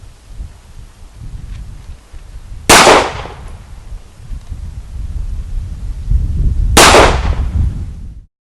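Two sharp, loud pistol shots from a Sig Sauer 1911C Scorpion crack at an outdoor range roughly four seconds apart, with wind rumbling against the microphone between them.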